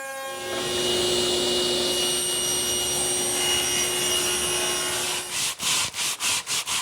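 A power router whines steadily as its bit cuts wood molding, close and loud, then the motor slows and pulses in rhythmic bursts near the end.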